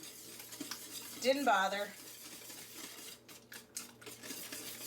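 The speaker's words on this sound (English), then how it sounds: "now we're going to blend all that in, breaking those egg yolks up" A whisk or fork breaks up egg yolks inside a raspberry cream pie filling. The result is a short burst of quick, close scraping and tapping against the bowl, with a voice briefly speaking.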